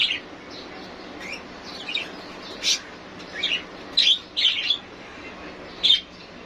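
Baby birds held in a hand give brief, high chirps, scattered and irregular, fairly close but soft over a low steady background hiss.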